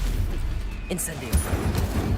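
An Incendio fire spell is cast in Hogwarts Legacy, giving a short burst of whooshing flame with a brief bright crackle over a busy combat background, close and fairly loud.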